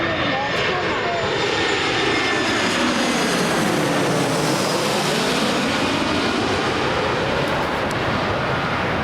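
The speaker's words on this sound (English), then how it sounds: "It is 12 years old, Airbus A320-200." Airbus A320-200 airliner at Manchester Airport at night, a loud continuous jet engine roar with a sweeping pitch shift as it passes, close, under occasional talk.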